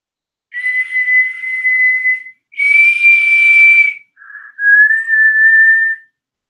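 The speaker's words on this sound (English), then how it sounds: "The shrill of the whistle was growing louder." Three long, shrill whistle blasts, clear and loud, each held steady for a second or two with short gaps between them.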